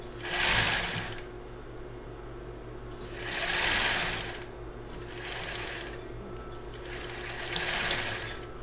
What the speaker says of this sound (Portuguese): Costurando na beiradinha e colocando na beiradinha também.